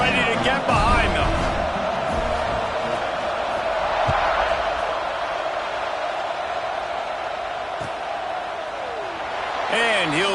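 Football stadium crowd at an LSU vs Ole Miss game, a steady broad roar of thousands of fans around kickoff, loud and continuous under a commentator's talk.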